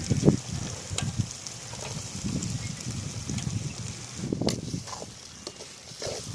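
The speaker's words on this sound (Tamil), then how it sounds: "வெங்காயம் நல்லா வதங்கியாச்சுப்பா. கேரட் போட்டு வேக வச்சுக்கலாமா." Onions and carrots sautéing in a pan for veg puff filling, giving a soft, steady sizzle broken by a few clinks and stirring scrapes.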